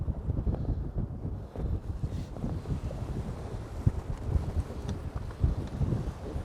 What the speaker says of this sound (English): we're still fighting some wind